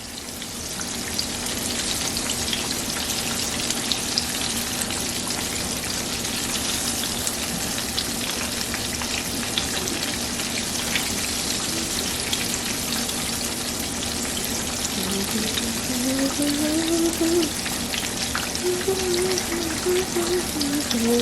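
Slices of breaded green tomato frying in hot oil in a pan, a dense steady crackling sizzle throughout, with faint hiss and small pops up close and no speech.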